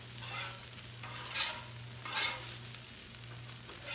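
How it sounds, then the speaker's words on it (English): Breakfast food, including potatoes, mixed on a Blackstone griddle: rough spatula scrapes in short bursts over a continuous soft sizzle and a low steady hum, with no talk. "I'm just going to start mixing all this together."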